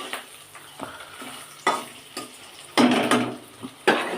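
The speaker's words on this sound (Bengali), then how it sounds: "প্রথমে কড়াইয়ের মধ্যে পনিরটা ভালো করে ভেজে নিচ্ছি" Paneer cubes fry in a kadai for dahi paneer, a soft steady sizzle broken by sharp scrapes and clatter as a spatula stirs in short bursts, the loudest near the end.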